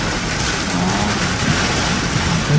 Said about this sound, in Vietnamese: Mưa ngoài biển nè.